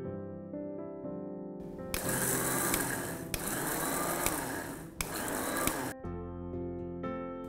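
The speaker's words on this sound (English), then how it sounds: "I am going to add in some chili flakes and give it one more grind." An electric spice grinder whirs loudly for several seconds, crushing chili flakes with dried spices, starting and stopping in short bursts against faint background music.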